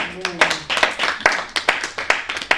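A church congregation claps together in praise, a steady rhythmic beat of many hands, loud and close, with voices mixed in.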